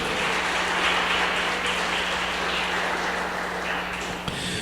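A church congregation claps together during a worship service, a thick, rain-like wash of applause that is steady throughout and ends with a brief knock, over a low electrical hum.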